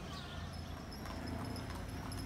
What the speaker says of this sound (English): this is one of the local transportation, the horse-drawn car